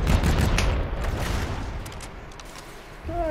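Dense rapid bursts of gunfire in the video game Call of Duty: Infinite Warfare, loud at first and easing off slightly, with a brief electronic tone near the end.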